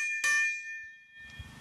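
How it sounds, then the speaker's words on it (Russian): An empty fire extinguisher hung by a commander's dugout is struck once as an alarm bell, giving a bright metallic ring that decays slowly, followed by faint rustling and muffled noise. "А возле блиндажа командира повесили даже пустой огнетушитель. Используют его как колокол."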